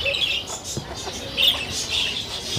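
Chickens with chicks at an outdoor flea market in Canton, Texas, giving close, shrill peeping chirps and clucks, with busy market noise around them.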